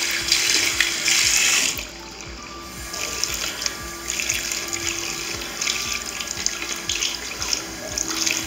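A bathroom tap runs during rinsing, a steady rushing splash of water into a sink that briefly drops quieter then returns with spattering, close and alone.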